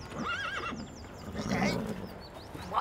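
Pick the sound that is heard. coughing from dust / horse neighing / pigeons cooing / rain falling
horse neighing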